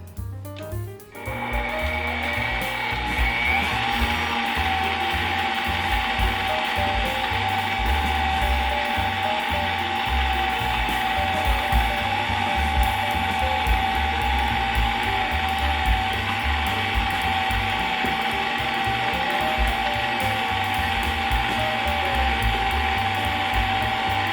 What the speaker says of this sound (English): Mixing low, you do not want to overmix at this time.